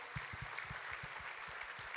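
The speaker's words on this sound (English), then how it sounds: "Big round of applause for our amazing elite athletes here today." Applause from an audience at a women-in-sport breakfast, fairly quiet clapping with distinct individual claps in an uneven rhythm, heard from some distance.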